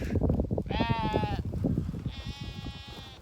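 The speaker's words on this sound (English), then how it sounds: "Look at that, one sheep in a completely different field." Sheep on a homestead bleating twice, a wavering bleat followed by a second one after a short pause, heard close over steady rustling and handling noise.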